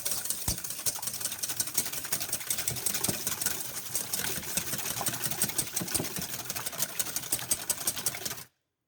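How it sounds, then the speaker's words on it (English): A dessert mixture is whisked in a bowl, giving a steady, fast, rattling scrape that runs nonstop for about eight seconds and then cuts off abruptly. "Whisk these up."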